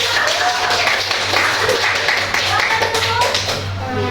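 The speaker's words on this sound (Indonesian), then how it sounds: "kita tutup tepuk tangan buat kawan-kawan." Classmates in a school lesson applaud the presenters, a dense and continuous patter of clapping, loud and near, blended with chattering voices and a low electrical hum throughout.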